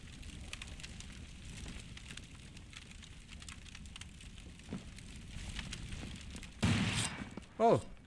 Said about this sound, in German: da schießt jemand